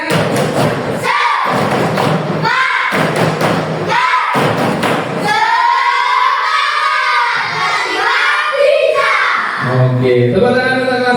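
A primary school class does a tepuk semangat, with loud rhythmic thumps of clapping in bursts followed by children shouting and cheering together at close range.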